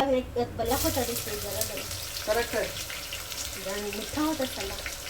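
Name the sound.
cumin, mustard seeds and curry leaves sizzling in hot oil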